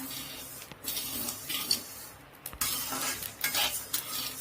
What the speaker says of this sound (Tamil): லைட்டாக பொரிக்கிற சவுண்டு கேட்கும், வெடிக்கும். இந்தமாரி லைட்டாக பொரியும்.